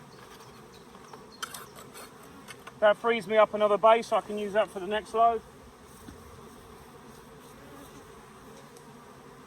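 Honey bees buzz loudly in a close cluster of short, pulsing bursts as they fly back into a nuc hive, set against a faint steady hum. A person talks before and after the burst.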